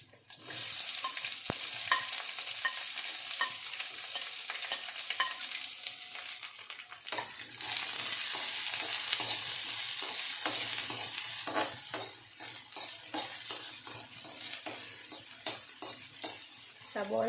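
Sliced onion sautés in a home kitchen pan for an egg fruit thoran, a steady frying sizzle broken by scraping stirs of a utensil against the metal, close and continuous with no voices.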